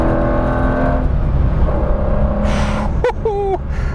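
An Aston Martin Vanquish V12 drives along a road with a loud, steady engine drone inside the cabin, its pitch rising slightly as it pulls through the gears.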